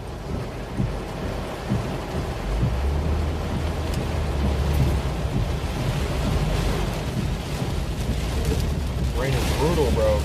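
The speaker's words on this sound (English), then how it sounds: "Rain is brutal, bro." Heavy rain pounds steadily during a storm chase in southern Virginia, with a low rumble of thunder rolling underneath and a voice briefly speaking near the end.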